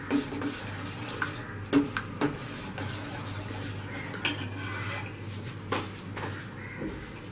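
Chocolate fudge mixture with butter stirred in a pan gives a steady soft scraping and rubbing, broken by several sharp utensil knocks against the pot, with no voices.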